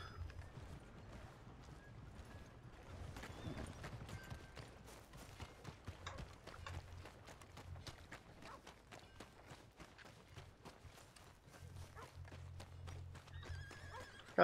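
A horse in Red Dead Redemption 2 neighs and whinnies over fairly quiet, continuous hoof clip-clops and movement sounds, with several distinct calls and a sharp sound at the end.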